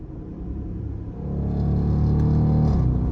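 A Dodge Durango R/T's exhaust and intake rumble low and steady, swelling louder as the engine builds revs midway and holding a deep throaty drone, with no talking.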